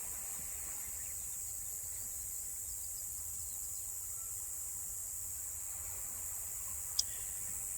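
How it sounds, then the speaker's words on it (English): Crickets chirp in a steady, continuous high-pitched trill at a campsite beside the ocean at night, faint and unbroken, with a low wash of surf beneath and a single sharp click near the end. "If I'm quiet, you can probably hear crickets and maybe some water."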